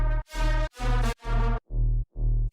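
Electronic music production loop with brassy horn stabs layered over a synth and bass line, moving into a chopped vocal section; loud rhythmic bursts separated by short gaps, no talking.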